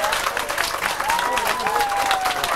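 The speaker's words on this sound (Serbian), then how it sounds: "Te čujem aplauz još jednom" Steady applause from a crowd at a Miss Roma beauty pageant in Gradiška, continuous clapping that holds for the whole stretch, with some voices mixed in.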